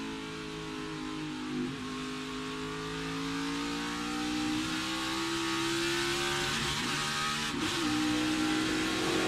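Toyota NASCAR Xfinity race car engine heard from onboard at Watkins Glen, a steady mid-pitched drone that drops in pitch with downshifts and then climbs again under acceleration, loud and continuous throughout.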